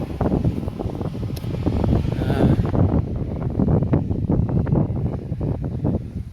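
Loud, gusty wind buffeting the microphone continuously in an abandoned cemetery in Lismore, rumbling and blustery throughout.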